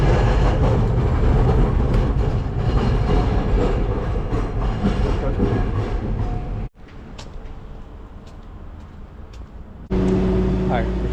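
A train rumbles and clatters nearby with a steady roar, briefly dropping quieter before the noise surges back in.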